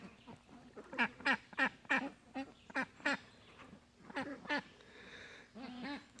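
Newly hatched Cayuga ducklings in a brooder give a steady run of close, bright peeping chirps, some quick and clustered, others drawn out, with no talking.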